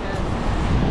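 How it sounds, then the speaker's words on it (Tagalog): Wind blowing steadily outdoors by the sea, a broad constant rush with buffeting on the microphone and a faint voice underneath. "Mahangin eh."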